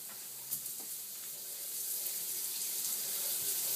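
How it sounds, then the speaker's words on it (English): Water runs steadily from a shower in a bathroom, a soft continuous hiss that slightly swells in level and holds throughout with no voices. "Let's go take a shower."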